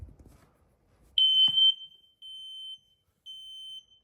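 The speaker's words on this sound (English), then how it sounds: "We have a Kidde P9050, and this one's also photoelectric." Kidde P9050 photoelectric smoke detector sounding during a monthly test, three loud piercing beeps with short gaps, the alarm partly covered, after faint handling noises.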